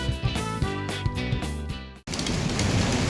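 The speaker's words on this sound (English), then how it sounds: "It's raining outside." Rain falling outside in a cartoon, starting after a brief stretch of music as a steady, fairly loud hiss of broadband rain noise that continues to the end.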